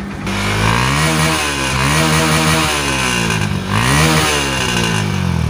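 A Honda Verza motorcycle engine revs up and down repeatedly, loud and close, with a steady rumbling idle between throttle blips, during a check for a fault that makes it stall while riding.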